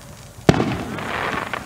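A TNT firework goes off outdoors at an Independence Day celebration, one sharp loud bang followed by crackling fizz and a fading rumble, with no voices.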